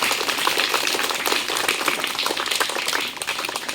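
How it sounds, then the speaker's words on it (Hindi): Audience clapping loudly for a child called up on stage at a school prize ceremony for classes 1 to 5, a dense, sustained round of applause with no voices over it. "इसके लिए जोरदार ताली लगाया जाए।"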